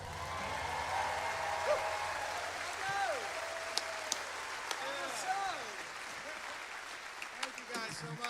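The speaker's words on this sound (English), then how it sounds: "Oh, it feels good, doesn't it? That applause." Audience applause at the Grand Ole Opry, a broad, fairly distant wash of clapping with whoops and cheers rising through it, as a voice talks over the crowd.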